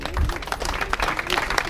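An audience at a book fair in Saint-Laurent-du-Var applauding, a dense wash of clapping with a voice speaking over it.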